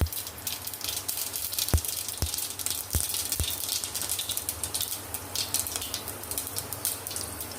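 Mustard seeds and cumin hit hot oil for a Gujarati cucumber, cabbage and green chilli sambharo, giving a steady close sizzle with a few sharp pops and crackles spaced through it.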